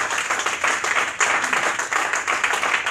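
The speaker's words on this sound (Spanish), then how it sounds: "¿O cuánto dan ese aplauso al Señor?" A church congregation claps together in a lively, fairly loud round of applause with a steady, crowded patter that keeps going without pause.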